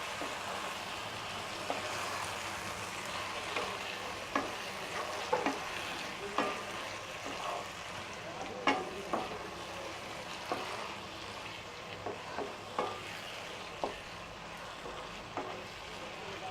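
Cleaned prawns stirred into hot oil for a Tamil prawn gravy (iral kulambu), a steady frying sizzle close by, with repeated sharp clicks and scrapes of a spoon against the pan throughout.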